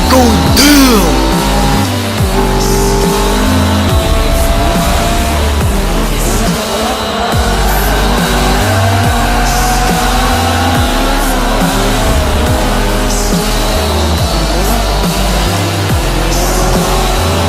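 Toy Lego race cars speed along with whining, revving engine sounds that rise and fall in pitch, loud and continuous over a low pulsing backing.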